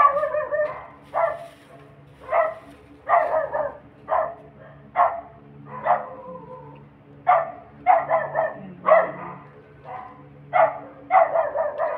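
A dog barks repeatedly in short bursts, some sharp and some yippy, at moderate distance, with brief pauses between volleys.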